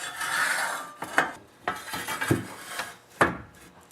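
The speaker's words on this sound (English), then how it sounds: "Now I'm just going to slide on the augers." Metal snowblower augers slid onto a greased shaft during a gearbox rebuild, giving a handful of scraping, clanking knocks spaced about half a second apart, close by and with no talking.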